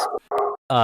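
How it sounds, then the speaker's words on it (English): A dog gives two or three quick, close barks in a short burst, loud and sharp with brief gaps between them. "I'm sorry about my dog"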